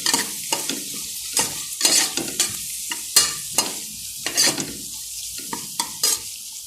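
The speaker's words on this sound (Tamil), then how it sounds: "இப்போ நம்ம போட்ட எல்லா மசாலாவுமே நல்லா மிக்ஸ் பண்ணி விட்டுக்கோங்க" Masala being stirred and fried in a pan, loud close sizzling broken by frequent sharp scrapes and clanks of a spoon against the metal, irregular and without talk.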